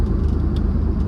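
A 1979 Chrysler 300 with loose steering and tire wobble driving along, its engine and road noise forming a steady low rumble that fills the short stretch without a break.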